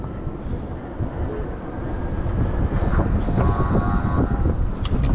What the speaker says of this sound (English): we might see one of those little tram trains